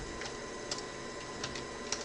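Typing on a computer keyboard: a few faint, sparse key clicks in an irregular rhythm over quiet background noise.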